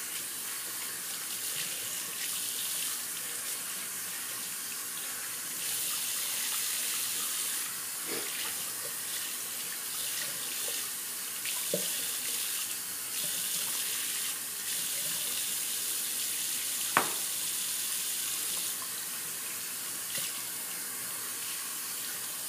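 Tap water runs steadily into a sink while soap is rinsed out of shaving brushes, a continuous close hiss with a few faint clinks and knocks against the basin.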